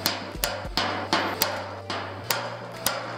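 Flanging tool punching holes into the sheet metal of a car fender, a series of sharp metallic clacks roughly every half second, close and fairly loud over a low steady hum.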